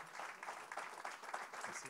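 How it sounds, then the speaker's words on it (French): Faint applause from a conference audience welcoming a guest speaker at a talk on telematics and the digital and energy transition, a steady, fairly quiet patter lasting about two seconds with some voice mixed in. "Une petite main d'applaudissement pour notre invité."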